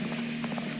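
Horse hooves clip-clop in the Dynasty Warriors Origins video game, a brief, steady trot over a constant low game hum.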